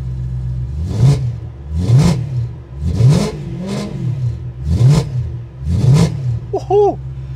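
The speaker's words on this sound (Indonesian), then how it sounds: "V8-nya M tuh suaranya garing sekali, seperti ini." A BMW M3 E92 GTS V8 engine revs sharply about six times in a steady rhythm, each blip rising to a crisp, raspy roar and dropping back, loud and close.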